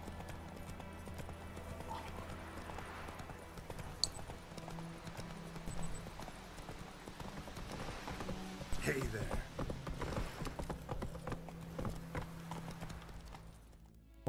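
Horse hooves clip-clop steadily in The Witcher 3, running under a continuous bed of game music and ambience, with voices talking over the top throughout.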